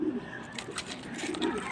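Pigeons coo softly and repeatedly in a low, throaty rhythm, close by, over a steady background hiss with faint talk mixed in.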